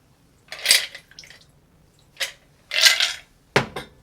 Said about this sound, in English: Let's strain this in our chilled cocktail glass.